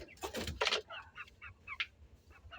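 Two-month-old farm chickens cluck and squawk in short, irregular bursts, fairly faint, with a couple of louder calls near the start and quieter clucks scattered after.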